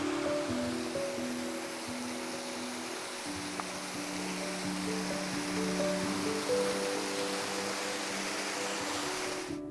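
Baş Daşağıl waterfall in the forests of Oğuz, a faint steady rush of falling water, continuous and distant, with a soft tonal hum laid over it.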